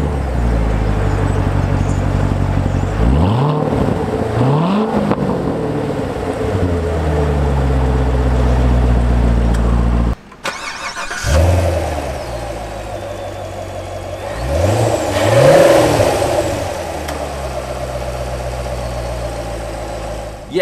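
2016 Chevrolet Corvette Stingray with the LT1 6.2-liter small-block V8, idling with a deep burble and revving in several loud rising and falling sweeps, with a brief cut midway, heard up close without talk.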